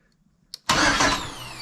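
A GMC Sonoma pickup engine turning over with the key off: a brief click, then a sudden loud cranking burst that settles into a rough rumbling run, close to the microphone.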